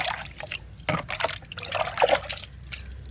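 Water pours and trickles steadily into a large bucket while a diluted plant fertilizer is mixed, a close, continuous splashing flow with no talk.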